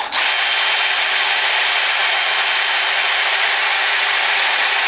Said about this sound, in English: You see my little cordless drill here.